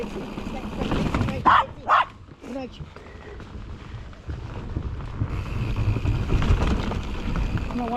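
Two sharp dog barks in quick succession outdoors on a mountain bike trail, mid-distance and clear over wind and background noise, followed by a few fainter yips.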